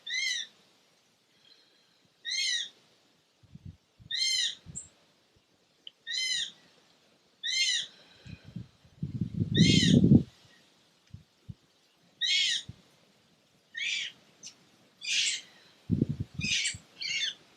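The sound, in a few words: birds calling outdoors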